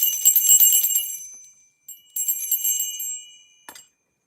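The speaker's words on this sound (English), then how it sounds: "I need to get my better bell out." A bright, high-pitched bell is rung twice, each time with quick ringing strokes that decay in a shimmering tail, followed by a single short tap; clear and close in a quiet room.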